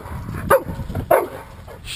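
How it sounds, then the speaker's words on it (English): A dog outdoors gives two short, sharp barks about half a second apart, close and loud against a quiet background. "Shh, no bark."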